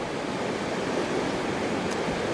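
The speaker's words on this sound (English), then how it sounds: "about a half mile of this creek right here, which is Clear Creek." Clear Creek in French Gulch, California, flows with a steady, loud rushing wash that runs without a break and has no speech over it.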